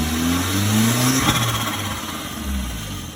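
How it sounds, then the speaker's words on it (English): A turbocharged mid-engined Triumph Spitfire engine with an upgraded K04 turbo runs steadily at a low idle, warmed up to temperature, close and continuous, with a slight rise and fall in pitch. "I ran the engine till it was up to temperature"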